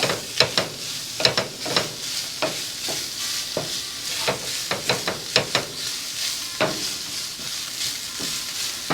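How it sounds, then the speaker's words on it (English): Chopped onion in a tablespoon or so of oil sizzles in a pan while it is stirred, giving a steady frying hiss broken by repeated sharp scraping strokes. No one speaks. "So we'll cook this until the onion is translucent."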